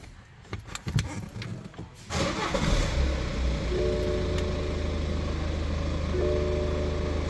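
A BMW X3 with a freshly remapped ECU cranks and fires up after a couple of seconds of faint clicks and cabin noise, then settles into a steady idle with a faint electronic beeping tone over it.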